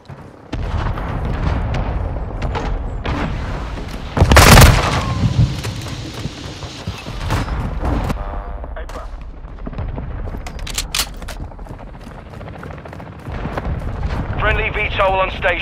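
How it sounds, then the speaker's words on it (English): Mortar strike explosions boom in Call of Duty: Modern Warfare II, a loud burst around the middle over continuous battle noise with scattered gunfire cracks and a voice speaking. "Our mortar strike is inbound"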